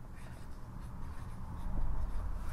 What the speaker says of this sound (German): Ich schreibe das mal kurz aus.